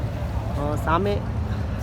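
Ferry boat crossing the water near a temple in Dubai, a steady low engine rumble with wind noise throughout, and someone briefly speaking over it.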